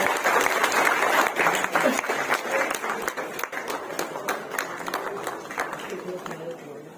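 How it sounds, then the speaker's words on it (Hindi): Loud, dense audience applause welcomes a senior president arriving from Lucknow at a gathering, with sharp individual claps popping out of the steady wash before it gradually thins and softens. "चाहूंगा जोरदार ताली सुनकर आप सब स्वागत करें"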